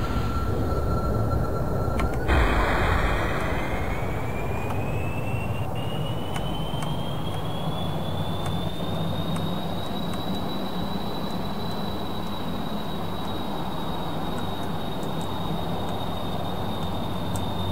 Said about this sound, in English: So we'll just start with the vertical engines.